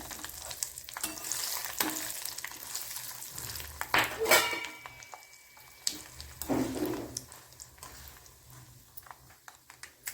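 Green chillies fry in oil in a pan for spicy ginger chutney, a soft steady sizzle with a few scraping stir sounds and clinks, fairly quiet and close.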